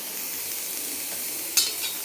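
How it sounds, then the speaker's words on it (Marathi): Pieces of coconut dry-roasting in an iron pan give a faint, low hiss, broken once near the end by a sharp scrape as they are stirred. "एवढा खोबऱ्याचा तुकडा आहे त्याचे तुकडे करून मी भाजते"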